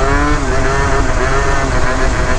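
A Yamaha Zuma 70cc scooter with a CVT setup buzzes loudly at full throttle, its engine held pinned in a steady high-revving drone heard close up from the rider's position.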